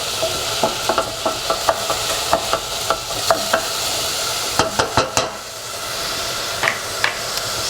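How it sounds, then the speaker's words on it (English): Garlic paste frying with softened onions in a pan for cashew nut curry, a steady close sizzle broken by repeated light scrapes and taps of a spoon stirring. "Once your onions are slightly softened, then we will add in our garlic paste."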